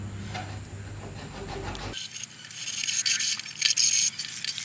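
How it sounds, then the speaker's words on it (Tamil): A plastic bottle is cut, giving steady rasping, scraping strokes up close, first under a low hum and then alone, with no talk. "இந்த பாட்டில் இதில் தேவையில்லாததை நம்ம கட் பண்ணிடலாம்."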